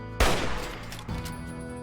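A loud gunshot blast from a powerful gun in Fallout 3, fired outside the Jefferson Memorial, followed by a second shot and lingering echoing tail.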